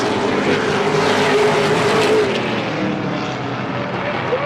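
Loud, steady engine roar of Pro Stock cars racing past close by at Scotia Speedworld, with a rising and falling drone and no clear speech.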